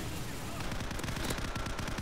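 Rapid bursts of gunfire crackle in quick succession, a dense rattle of shots like automatic weapons in a game, continuous for the whole moment.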